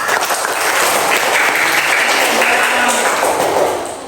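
Classroom applause from elementary school pupils after a group presentation on traditional houses, a steady dense clapping wash that runs the whole stretch and fades slightly at the end.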